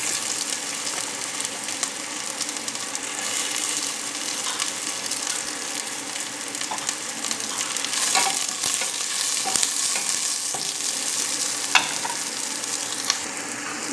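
Garlic frying in a pan with oil, a steady broadband sizzle running throughout with occasional scraping and stirring clicks, close and continuous.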